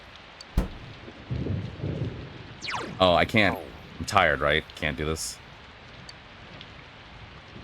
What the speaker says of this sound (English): It's thundering outside.